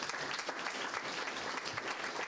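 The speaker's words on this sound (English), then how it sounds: "Let's give them a round of applause." An audience at a Nashville health summit applauds a round of honorees with dense, continuous, even clapping from many hands, somewhat distant and filling the room, with no voices over it.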